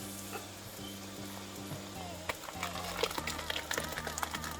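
Sauce for Ayamase designer stew hisses and sizzles steadily in a hot pot, a dense crackling layer that grows a bit livelier toward the end over a low background hum.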